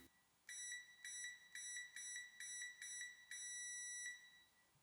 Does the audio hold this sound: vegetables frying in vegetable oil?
no